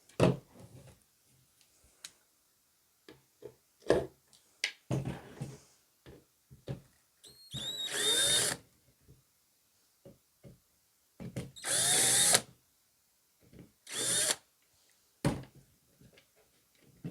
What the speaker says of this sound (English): Now we'll take the handles off. Do it by hand, or you can use the drill